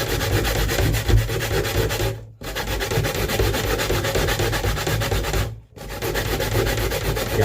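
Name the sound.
grating coconut by hand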